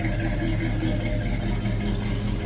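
A car engine idles through Jones full bore performance mufflers with a deep, throaty exhaust burble, close and steady throughout, its low pulsing rumble unbroken.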